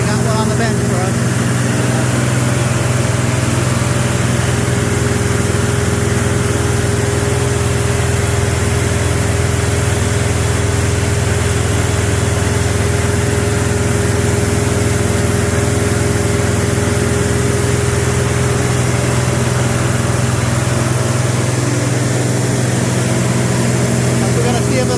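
A small engine runs on a test bench, a loud steady idle with an even, unbroken drone throughout.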